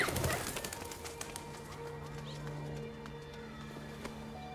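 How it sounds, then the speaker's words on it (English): A pigeon coos in a soft, throaty, repeated pattern within the game Detroit: Become Human, set against clicks and background ambience at the start and a steady hum. "do I get to play as the pigeon?"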